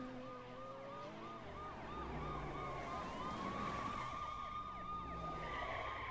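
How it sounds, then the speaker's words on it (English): Wailing police sirens from Raptor police cars in the racing video game The Crew rise and fall continuously over engine noise and tire skids, several sirens overlapping at moderate volume. "Look at all the Raptor police cars."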